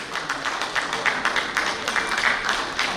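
An audience applauds a speaker at a TiECON 2025 leadership event, giving a steady, dense round of clapping that holds fairly even throughout, heard from within the hall at moderate loudness.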